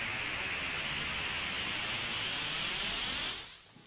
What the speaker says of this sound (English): I've just turned the noise section up and adjusted the ADSR